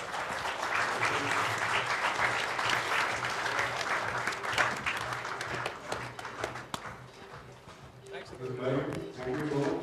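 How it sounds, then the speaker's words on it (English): A conference audience claps in a sustained round of applause as guests are called to the stage, with voices talking over the clapping as it tapers off toward the end. "Big round of applause."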